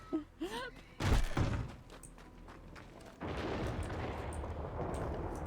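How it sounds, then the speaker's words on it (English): A heavy thunder crack in the RedM Red Dead Redemption 2 roleplay game hits as a loud, booming burst, then rumbles and fades into a steady wash of rain-like noise, with people talking at times. "Right as the crack of thunder."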